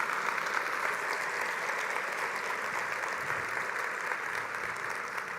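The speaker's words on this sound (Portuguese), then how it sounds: "Você pode aplaudir ao Senhor." A church congregation claps together in a steady, even wash of applause that fills the space without a break.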